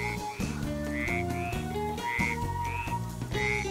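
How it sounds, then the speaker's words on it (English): Frogs croak in a wetland, a dense chorus of rhythmic, repeating calls with rising chirps layered over deep pulsing croaks, close and loud throughout. "You guessed it, it's frogs."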